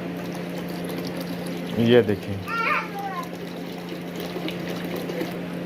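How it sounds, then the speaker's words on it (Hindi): Rose water poured from bottles into a pot for sandalwood sharbat, a brief splashing pour lasting about a second under a low steady hum, with a voice speaking briefly. "3 अरग गुलाब की बोतलें ऐड कर।"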